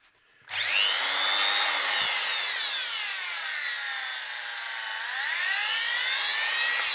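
A Bosch GWS 850 CE angle grinder spins up and runs alone for several seconds. Its close, loud, high-pitched whine dips slightly as the speed sags, then climbs back up.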